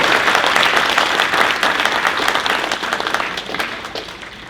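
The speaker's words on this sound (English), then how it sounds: "I just want to give him a round of applause for even setting up the time." An audience at an awards banquet gives a round of applause, with dense, close clapping that starts strong and gradually thins and fades over several seconds.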